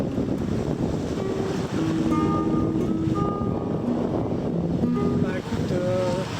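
Light wind buffets a sailboat at sea over a slight swell, a continuous rushing hiss with soft watery wash and occasional faint creaking tones from the boat.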